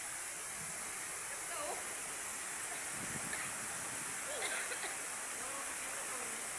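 Kalibong Falls in San Nicolas, Pangasinan pours as a steady, broad rushing roar of falling water, constant throughout, with faint voices of people nearby mixed underneath.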